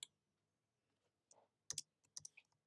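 Keys clatter on a computer keyboard while a paper name is entered in Adobe Photoshop: a few quiet, sparse bursts of clicks separated by pauses, close and otherwise silent.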